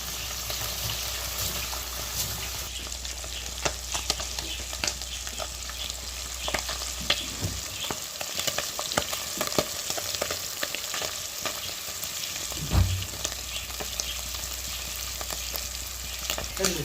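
Sardines fry in a pan with a steady, dense sizzle and crackle, punctuated by scraping knocks as the fish are turned to cook the other side.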